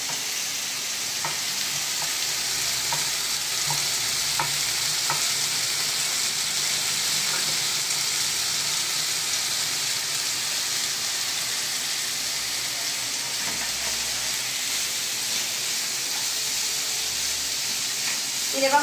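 Finely chopped garlic fries in a pan while being stirred: a steady, close sizzling hiss runs for the whole stretch, with faint scattered clicks of the utensil against the pan.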